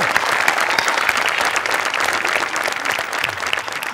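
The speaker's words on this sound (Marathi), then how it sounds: "आज तुझ्या गाण्यासाठी उभं राहून टाळ्या वाजवायला पाहिजे" A studio audience at a comedy show claps after a song, giving loud, sustained, dense applause from many hands that carries on evenly throughout.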